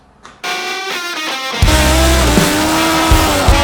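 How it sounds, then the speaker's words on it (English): A supercharged motorcycle engine runs on a dyno for a base run. It fires up loudly, climbs through rising revs, then holds a harsh full-throttle roar with no talking. "At the moment it's just on the dyno as it came in to get a base run."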